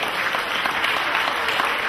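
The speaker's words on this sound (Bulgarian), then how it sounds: "Аплодисменти!" Wedding guests burst into steady, dense applause, many hands clapping at once and close by, holding at an even level without pause through the whole stretch.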